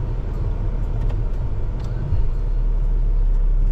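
A 2008 Chevrolet Impala being driven, giving a steady low engine and road rumble that rises slightly partway through, with no voices over it.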